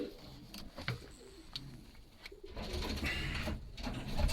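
Pigeons in a loft give soft, repeated throaty coos, close by and fairly steady, with light rustling and shuffling of birds around them.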